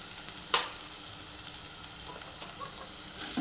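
Fish pickle masala frying in a pan as chili powder is stirred in: a continuous hiss of sizzling oil with a sharp utensil clink near the start and stirring scrapes toward the end.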